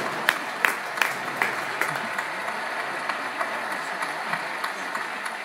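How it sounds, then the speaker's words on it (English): Scattered applause from an audience at a talk, with sharp individual claps standing out early over a softer, thinning patter of hands that continues at moderate volume for several seconds. "So there's the applause."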